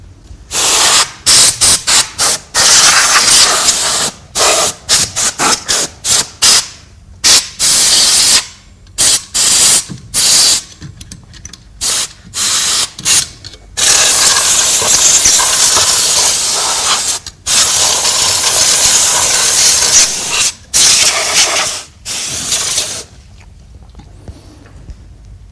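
Compressed air blasts through a desktop PC power supply to blow out dust, giving loud, harsh hissing bursts of varying length in an irregular rhythm, with short gaps between them and one long continuous blast in the middle.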